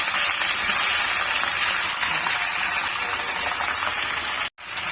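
Kundruli (ivy gourd) frying in hot oil tempered with dried red chilli and panch phoron, a dense steady sizzle that runs almost without pause and cuts out briefly near the end.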